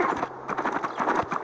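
Horse hooves clip-clop in the Western video game Six-Gun, a quick, steady galloping rhythm of hoofbeats that stays close and fairly loud for the whole moment.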